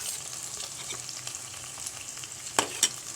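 Onions, green chillies and curry leaves sautéing in hot oil for a South Indian pepper chicken fry, giving a steady close sizzle with a couple of sharp spatula clinks near the end.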